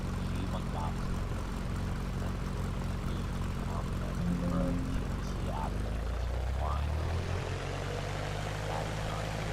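Cessna Skyhawk G1000 single-propeller engine in the X-Plane 11 flight simulator, a steady droning hum that holds throughout and shifts lower toward the end.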